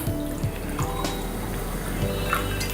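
Water pours and trickles into a pot of soaked moong dal with light splashing and dripping, steady and close, fairly quiet.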